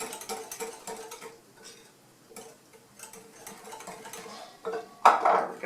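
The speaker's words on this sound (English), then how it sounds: "So then I'm going to add the evaporated milk slowly, and as I'm adding, I'm mixing" A wire whisk mixes evaporated milk into cushaw pie filling, giving quick irregular clinks and scrapes against a bowl, faint at first and then louder near the end.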